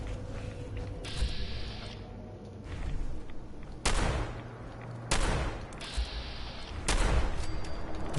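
Explosive shotgun blasts in Fallout 4 crack out at irregular intervals, each sharp boom followed by a ringing burst, with mechanical creaks and clicks between the shots and no talk.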